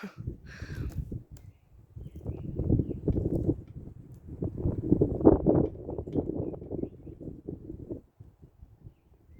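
Gusty wind buffets an outdoor microphone in uneven bursts of low rumbling, swelling and dropping for several seconds before easing off.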